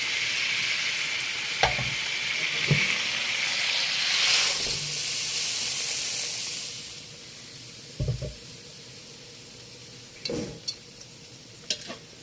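Pork cracklings sizzle in a cast iron pot after slaughtering a pig, a bright, steady frying hiss up close, interrupted by a few clanks and stirring scrapes, with the sizzle fading later.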